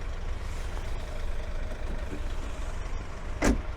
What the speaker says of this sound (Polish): Dolna część również otwierana elektrycznie